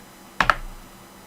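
Two quick, crisp keystrokes on a computer keyboard while a command is entered on Kali Linux during a Zaproxy install, close and clear against a faint quiet background.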